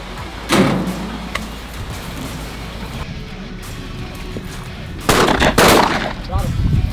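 Two loud shotgun blasts during a youth quail hunt in South Florida, one early and one later, each a sharp boom with a short tail, over a steady outdoor background.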